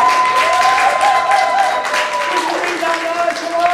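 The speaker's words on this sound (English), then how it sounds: "Let's have the ladies clapping first." An audience at the Worktown festival in Bolton claps along, broadband clapping mixed with voices and sustained sung or called tones carrying over it.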